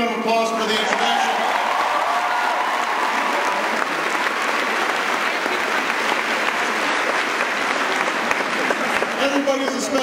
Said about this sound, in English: Can everybody please give Jody a big round of applause for the introduction?